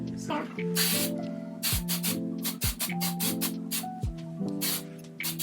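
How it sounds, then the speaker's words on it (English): Several short hissing bursts of aerosol hair holding spray, close and fairly loud, repeating in quick succession over background music. "Now I'm gonna take the holding spray and just spray everything kind of like on top"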